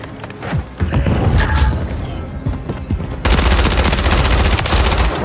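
Rapid automatic gunfire and bursts of shots in a Call of Duty Modern Warfare 3 multiplayer match, loud and dense throughout, growing heavier and continuous in the latter half with faint voice chatter underneath.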